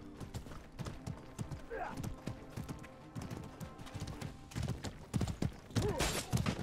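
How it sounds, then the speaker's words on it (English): Rapid hoofbeats clatter in an uneven gallop amid scattered clashing noises in the game Mordhau, with a horse whinny briefly rising over the busy action. "Got some horses attacking my team."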